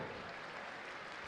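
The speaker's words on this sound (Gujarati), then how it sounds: "જોરદાર તાળીઓ" A crowd at a Hanuman Janmotsav stage program claps loudly for an Operation Sindoor dance act team, a continuous broadband clapping roar with no break across the short stretch.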